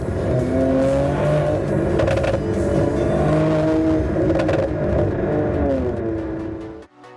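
Mercedes C43 AMG with performance exhaust in Sport Plus, full manual mode, accelerating hard: a loud, close engine roar with rising and falling revs and sharp rapid crackles, ending abruptly.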